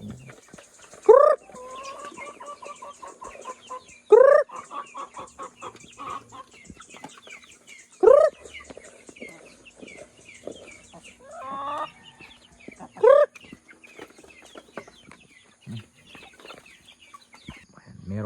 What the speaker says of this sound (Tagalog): So kunin natin para ipakain natin sa aking mga alagang sisyo